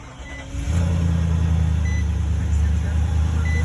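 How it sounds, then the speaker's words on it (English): A 2021 Nissan Frontier Pro4X pickup engine idles steadily up close, settling into a low, even rumble after a brief start-up rise, with no talk over it. "Beautiful, beautiful, beautiful sounding truck."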